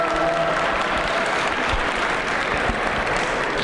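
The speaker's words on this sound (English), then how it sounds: "Can we get another round of applause for the Josiah Quincy Elementary School Lion Dance team?" Loud, steady audience applause for an elementary school lion dance team at a Lunar New Year celebration, a dense wash of clapping from a large crowd that holds at full strength throughout.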